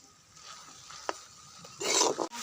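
Spice paste fries in a pan for a pumpkin-greens and jackfruit-seed dish, with a quiet low sizzle, a single scrape of stirring, then a brief louder burst of frying near the end.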